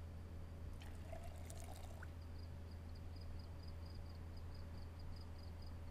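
Water pouring into a watering can in the Project Zomboid video game, a short trickling fill sound over a steady low hum, followed by faint repeating ticks.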